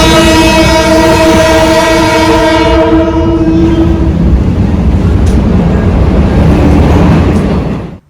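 A passenger train in Ghana on the line toward Tema rumbles loudly and steadily, its horn sounding a long sustained chord for the first few seconds before the heavy running noise carries on alone to the end.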